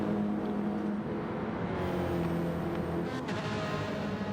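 Race cars in Gran Turismo 7 during a race, a steady droning engine whine with shifting tones as cars run close together, continuous and moderately loud.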